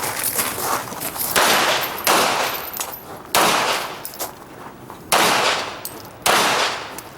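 Pistol shots ring out in an IDPA shooting match, fired at targets including a popper and a spinner, in sharp bursts of two and three rounds with brief gaps, loud and close with ringing tails.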